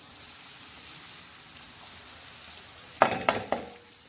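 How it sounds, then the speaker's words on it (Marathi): Red garlic chili chutney goes into onions frying on a flat griddle pan, with a steady sizzle and then a burst of sharp crackling and spoon scrapes near the end. "आता हे जे आपण लाल चटणी आहे ना ही लाल चटणी त्याच्यात टाकणार आहोत"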